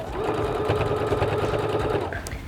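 A sewing machine stitches steadily in close range, a fast even mechanical whirring and ticking of the needle as it topstitches a pocket bag on dungarees, stopping near the end.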